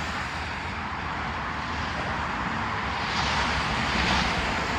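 A steady, loud roar of heavy traffic on the I-225 highway beside a transit station, a continuous broadband wash that swells slightly toward the end, with no voices.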